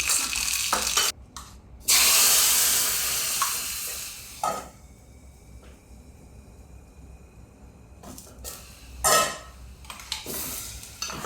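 Mustard seeds sizzle in a hot pan of tempering oil poured into red tomato chutney, giving a loud hissing burst that fades to a low simmer with clinks of utensils and later short crackles.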